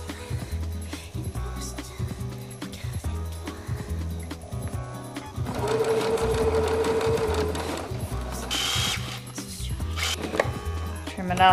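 A sewing machine stitches bias tape onto fabric for a vintage smock, its motor whirring in steady bursts with brief pauses, rising to a longer, louder run midway, close and with no speech.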